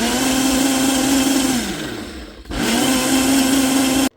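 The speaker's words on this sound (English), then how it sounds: "We're just gonna mix this in our food processor until completely combined." A food processor whirring steadily as it mixes eggs, lilac jelly, peanut butter and sunflower oil, its motor pitch sagging under load for a moment, briefly stopping, then spinning back up before cutting off abruptly.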